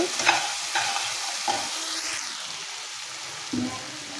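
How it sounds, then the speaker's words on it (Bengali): Onions frying in a pan after salt is added: a steady close sizzle with a few scraping stirs of a utensil against the pan. "এই যে পেঁয়াজটা একটু হালকা হালকা ভাজা হয়েছে"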